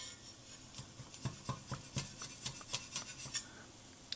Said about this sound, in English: Let's see if I can scrape it off with a spatula.